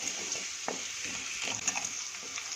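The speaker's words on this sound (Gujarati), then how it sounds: "અને એકવાર આને બરાબર હલાવી દઈશું." Carrot curry with turmeric is stirred in a hot pan, a soft sizzle running throughout with scraping spoon strokes and light clinks against the metal.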